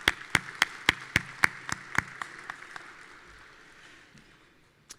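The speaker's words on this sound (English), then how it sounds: "let's give Robert Dooley a round of applause" At a Celebration of Valor ceremony at the National Medal of Honor Heritage Center, sharp, evenly spaced claps ring out near and distinct, steady at first then thinning and fading into quiet, with one last clap at the end.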